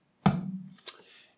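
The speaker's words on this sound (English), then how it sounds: "I picked up the garbage can and I slapped it against the floor." A garbage can slapped against a floor gives one sharp, close, hollow thud with a short low ring, then a second, fainter knock, with nothing else around it.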